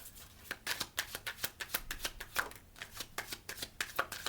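Oracle cards being shuffled for a reading, a rapid run of crisp, close flicks and riffles in an uneven rhythm, alone without speech.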